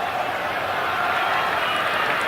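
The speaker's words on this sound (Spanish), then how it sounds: "Algunos aplauden, otros gritan, dependiendo de quienes se retiran allí" Paraguayan football fans in the stadium stands at a Sportivo Luqueño against Club Nacional match roar in a dense, continuous wash of crowd noise with mixed applause and shouting, loud and distant.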